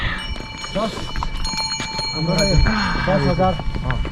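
Horse hooves clip-clop in a loose, uneven rhythm close by on a mountain trail in Lower Mustang, Nepal, with voices talking over them.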